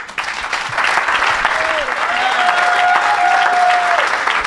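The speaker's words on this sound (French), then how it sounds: "Acclamons le Seigneur." A church congregation claps and cheers in sustained applause, loud and steady throughout, while a voice sings or calls out over the noise.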